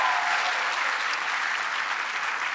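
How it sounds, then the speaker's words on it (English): Steady applause from a large audience at a political event on workforce policy, honoring the Secretary of Labor; dense, even clapping that holds loud and constant throughout with no voices rising above it. "Give him a big round of applause."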